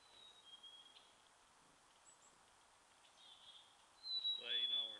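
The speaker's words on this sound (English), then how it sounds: "I don't know if you can hear the birds in the background" Birds chirp and call at a bird sanctuary near Brant, Ontario: thin, high-pitched tweets sound faintly at intervals through background noise, with a louder, closer burst of calls near the end.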